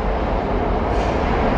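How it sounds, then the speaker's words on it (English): A subway train rolling past, a loud steady low rumble and rushing roar filling the whole moment with no break, close by and without talk. "Here come the train."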